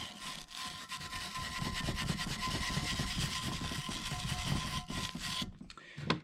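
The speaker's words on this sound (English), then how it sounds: "doing just a little more cleanup with the wire brush, getting some of these cavities cleaned out" A wire brush scrubs rust buildup out of the cavities of a 7.4L engine's manifold on a '93 Chevy Silverado K3500, giving a steady, close, continuous scratchy rubbing with a sudden stop near the end.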